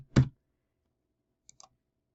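A single sharp computer mouse click sounds up close, then silence, then two or three faint light ticks follow about a second later.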